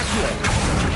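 Confringo blasting spell striking its target in Hogwarts Legacy, a loud, dense crash-like burst filling the whole second, with a sharper swell of impact midway.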